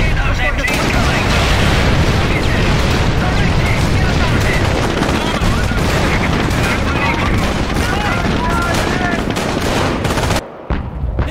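Machine gun fire rattles continuously in Company of Heroes during the Hill 112 battle near Caen, a loud, dense wall of rapid shots mixed with explosions, with shouted voices under it and a sudden cut near the end.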